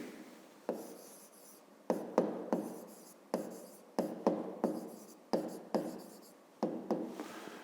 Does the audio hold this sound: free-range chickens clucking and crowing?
no